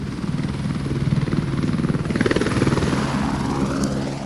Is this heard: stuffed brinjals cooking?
no